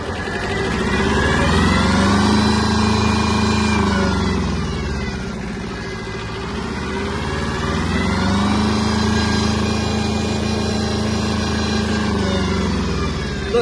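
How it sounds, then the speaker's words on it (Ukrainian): A Kubota B-10 Japanese mini tractor engine drives in third gear, a loud close diesel drone that rises and falls in pitch in two long sweeping waves as it gathers speed, alone without talk. "досить швидко трактор набирає свою максимальну швидкість"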